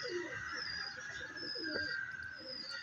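Ferozpuri pigeons coo softly in low, throaty, repeated calls, faint and fairly close, over a quiet background hiss with a few faint higher chirps.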